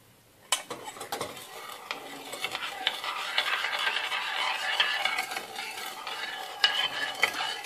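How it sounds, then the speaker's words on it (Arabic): Orange peel stirred in syrup in a pot over a gas flame, spoon clinks and scrapes against the pan over a rising soft bubbling sizzle, close with no talk. "نحرك بالمشعل الغاز"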